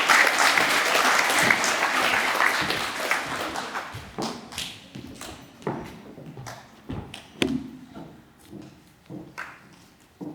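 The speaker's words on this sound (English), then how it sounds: "A round of applause for our netballer." Applause at a primary school graduation assembly for a netball award winner, dense and loud at first, then thinning into scattered individual claps that fade out.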